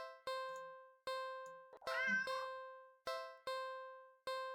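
A cat meows once, loud and close, in a video game, set between evenly spaced bright chime-like tones that ring out and fade.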